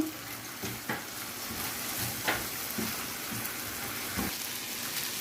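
Chicken fries in a pan with chili sauce and soy sauce, a steady close sizzle broken by several spatula scrapes and stirs at irregular intervals.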